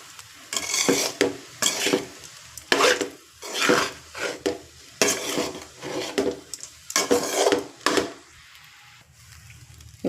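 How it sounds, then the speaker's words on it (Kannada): Lemon rice being stirred after lemon juice is added, a spoon scraping and turning the rice in a pan in repeated rhythmic strokes, close and fairly loud with brief pauses between them. "ನೋಡಿ, ಇವಾಗ ಲೆಮನ್ ಜ್ಯೂಸ್ ಆ್ಯಡ್ ಮಾಡ್ತಾಯಿದ್ದೀನಿ. ಹಾಕಿ ಮತ್ತು ಸರಿಯಾಗಿ ಕಲಿಸ್ಕೋಬೇಕಿದು."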